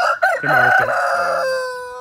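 A rooster of a dual-purpose meat and egg breed on a farm in the Philippines crows once, loud and very close, a single sustained cock-a-doodle-doo of about two seconds that gradually trails off.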